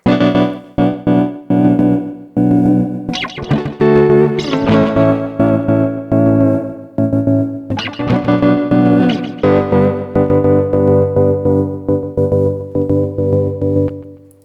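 A processed electric guitar plays chords and picked notes, the tones smeared by echoing repeats and a lingering reverb tail, loud and up front.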